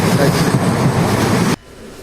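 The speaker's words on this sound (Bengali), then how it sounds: "ফাইনালি বন্ধুগণ আমাদের ট্রেন এসে পৌঁছেছে সিউড়ি রেলওয়ে স্টেশন" The Mayurakshi Express pulling into Suri railway station, a loud, close, steady rumble of train wheels on track that cuts off abruptly near the end, leaving faint ambience.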